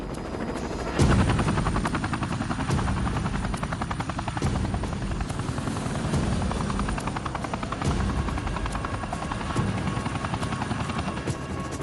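A helicopter's rotors thump steadily close by, a loud continuous chopping drone with a whining engine throughout.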